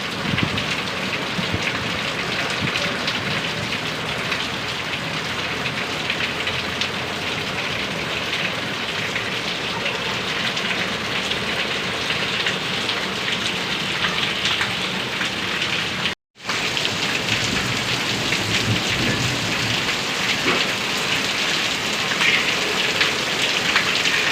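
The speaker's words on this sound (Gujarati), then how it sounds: "પવન થઈ ગયો છે। જોરદાર વરસાદ પડી રહ્યો છે।" Steady heavy rain roars close by in Kanpur village, Bhavnagar district, Gujarat, a thick constant wash of drops with gusty wind, broken by one brief dropout.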